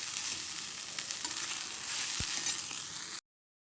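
Brinjal pieces frying in sunflower oil until browned, a continuous close sizzle and crackle with one faint thump, ending abruptly.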